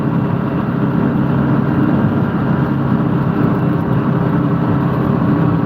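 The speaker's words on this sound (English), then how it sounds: "Got both trucks running today." Two trucks sit with their engines running, a loud, steady, dense rumble that holds unchanged without a break and carries no talk.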